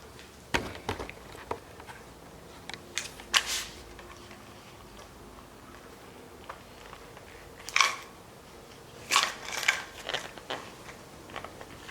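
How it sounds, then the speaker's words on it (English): An old metal clothes hanger is cut apart with a hand tool, giving a handful of sharp, close snips and clicks separated by quiet pauses, with no talking. "I'm going to cut an old hanger."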